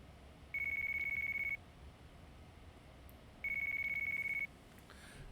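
A mobile phone rings in the video game Yakuza 4 Remastered: two separate bursts of a steady electronic ring, each about a second long, over a quiet ambient background with no talking.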